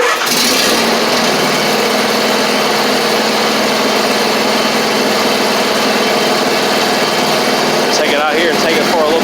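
The engine of a John Deere D140 riding mower catches and keeps running, a loud, steady, buzzing drone that fills the whole stretch at close range.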